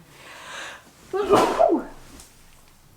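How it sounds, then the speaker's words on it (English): A single loud sneeze bursts out close by after a quick breath in, followed by quiet. "I'm going to sneeze"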